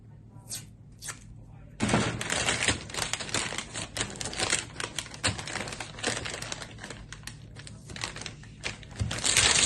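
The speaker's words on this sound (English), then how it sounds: "And I'm going to tape it down." Tape being pulled and pressed down over a sewing pattern: crisp crackling and tearing rasps in quick irregular bursts close by, after a quieter lead-in.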